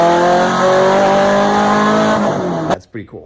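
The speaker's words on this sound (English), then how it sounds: "If you've never heard an LS with a 180-degree exhaust, it sounds like this." An LS V8 engine fitted with a 180-degree exhaust revs loud and steady for nearly three seconds, its pitch climbing slightly before cutting off abruptly, followed by a brief spoken comment.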